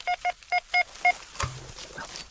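Metal detector signal while searching for coins: five short, even electronic beeps in quick succession, followed by a brief lower tone and some soft handling noise.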